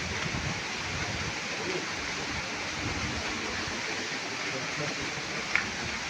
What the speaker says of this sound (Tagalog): Nga nag sirit-sirit ang tubig. Mo ni siya ang busay.